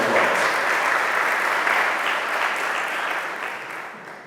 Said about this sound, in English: Give her a big old round of applause.